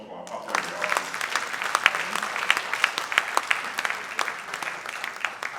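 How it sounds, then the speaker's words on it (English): An audience at a sales and marketing conference in a hotel hall applauds for a pastor, a sustained round of crisp, sharp claps at close range, steady and fairly loud across the whole stretch. "A round of applause for our pastor in the house."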